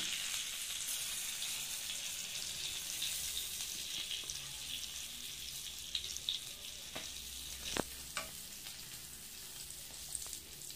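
Bangda mackerel fish frying in a pan in a home kitchen, steady crackling sizzle with a few louder pops and clinks toward the end, no talking.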